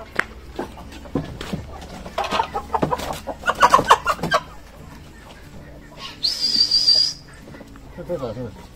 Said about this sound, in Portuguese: Tem mais um outro galo aí também aqui.